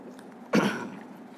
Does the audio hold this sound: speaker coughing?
yes